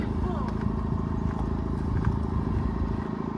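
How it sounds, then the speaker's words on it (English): A Ford 8N tractor engine labours steadily under load with a low, pulsing rumble, close and continuous, while people talk over it. "This is a tractor pull."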